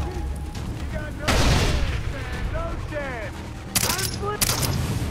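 Grenade blast and bursts of rifle fire in the jungle shooter Far Cry 3, a loud explosion followed by repeated gunfire cracks, one more heavy burst near the end.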